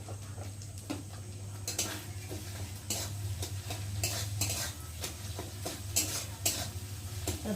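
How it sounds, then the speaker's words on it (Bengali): A lightly salted egg fries in a pan while a metal spatula scrambles it into loose bits, with repeated scraping and tapping strokes over a soft steady sizzle. "ভেজে নিয়েছি আর ডিমটাকে দেখো খুন্তি দিয়ে ঝরঝরে করে নিয়েছি"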